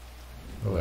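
Rain falls in a video game, a soft steady hiss that swells louder near the end, with no talk over it.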